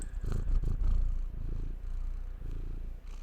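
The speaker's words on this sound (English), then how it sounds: "Here's my baby cat." A pet cat purrs right beside the microphone, a steady, throbbing low rumble that carries on without a break for several seconds.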